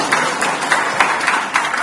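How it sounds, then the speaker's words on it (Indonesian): Applause for a speaker at a formal gathering, broad and steady hand clapping from an audience filling the short stretch, with faint overlapping voices beneath. "tepuk tangan untuk beliau."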